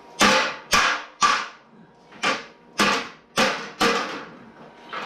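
Seven sharp hammer blows, evenly spaced, on the metal subrail of a Ford Model A in a workshop, each a loud close ringing clang with a short decay.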